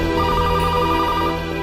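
Phone ringtone chiming in a rapid electronic pulsing pattern, steady and close for the full stretch, alone with no voices.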